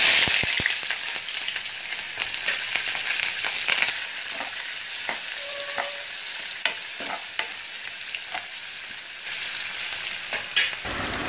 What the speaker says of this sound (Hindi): तो बस जीरा और प्याज फ्राई होने के बाद में मैंने इसमें डाल दी है भिंडी